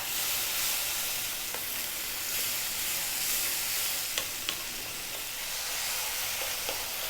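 Tomatoes cooking in a pan over high heat give a steady, close sizzle with faint scattered pops and crackles.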